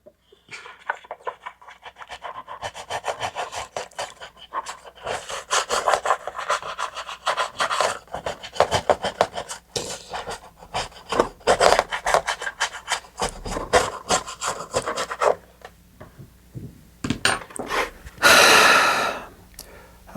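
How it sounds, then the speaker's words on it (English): Sandpaper rasps in quick back-and-forth strokes on the fin fillets of a SpaceShipTwo model rocket. The close, continuous scratching comes in bursts with brief pauses, and a louder rub near the end. "There's a lot of fin fillets on this rocket. So I'm going to be sanding for a while"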